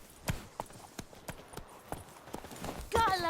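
Roach's hooves clip-clop at a steady trotting rhythm in The Witcher 3 on PlayStation 5, close and fairly clear, with a brief whinny near the end and game ambience underneath.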